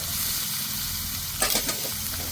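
Chopped onion and green garlic dropped into a hot pan for a dal tempering, sizzling loudly and steadily up close with a brief burst of crackle as they hit the oil.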